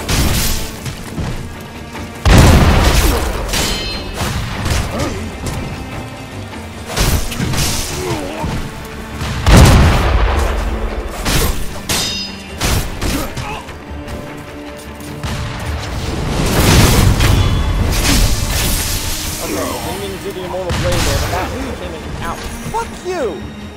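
Booms, crashes and thuds from gunfire traps and explosions in Sekiro: Shadows Die Twice arrive in irregular bursts, loud and chaotic, with talking mixed in.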